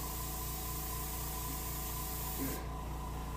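An airbrush sprays sailfish blue paint in a fine mist onto a brook trout taxidermy mount, a soft continuous hiss over a low steady compressor hum that drops away near the end.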